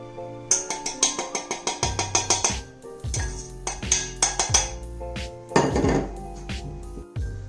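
Softened butter being worked with sugar and flour in a bowl for craquelin, a utensil knocking and scraping against the bowl in a steady run of close, fairly loud strokes. No one speaks.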